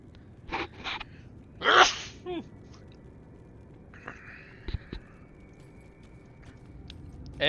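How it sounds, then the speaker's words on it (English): A single loud sneeze from a man close to the microphone during Grim Dawn play, one sharp burst with a short intake before it, then quiet background with faint game sounds. "Gonna sneeze."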